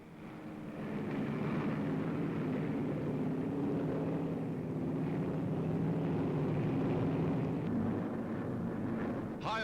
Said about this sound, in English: Taking off from runways hewn from the jungle, they roar aloft